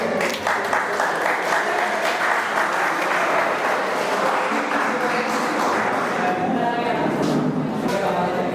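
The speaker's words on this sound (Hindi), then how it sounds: "तालियों से स्वागत कीजिए।" Steady applause fills a book-launch ceremony hall as an audience claps in welcome for a guest, dense and continuous throughout, loud and close with no pauses.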